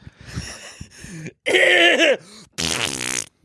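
Several loud, buzzy farts, close up, with fake coughs mixed in between them.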